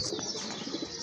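A pair of two-coloured pigeons cooing, the low murmuring coos running steadily and close at hand through the brief moment with a faint airy hiss behind.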